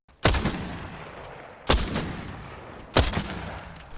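Three heavy gunshots fired while jumping in the Apex Legends video game, evenly spaced about 1.3 seconds apart, each a loud sharp blast with a lingering echoing tail, close and alone with no talking.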